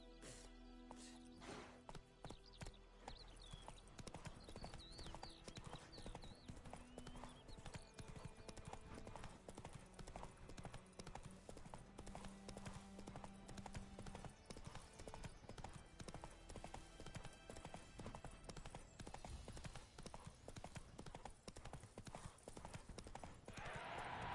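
A horse's hooves clip-clop steadily at a trot or gallop in the Witcher 3 video game. The rhythmic clatter runs the whole way through, along with game music and ambience, and brief speech is heard early on.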